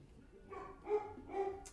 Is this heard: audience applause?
no